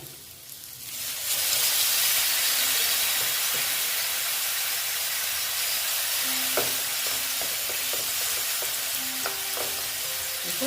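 Ginger paste frying in a hot pan for a Bengali fish curry with potato and cauliflower bursts into loud, steady sizzling and steam hiss as water is poured in, holding strong throughout with faint stirring clinks.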